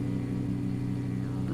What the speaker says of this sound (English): This car is exceptionally loud